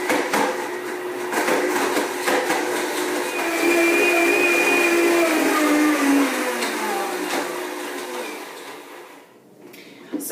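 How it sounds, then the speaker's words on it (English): A blender whirs loudly and continuously while pureeing greens with a date for a green smoothie, its pitch shifting as the load churns, then it cuts off near the end. "It's a real bugger to blend sometimes"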